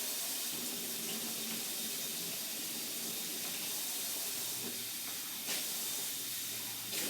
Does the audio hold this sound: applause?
no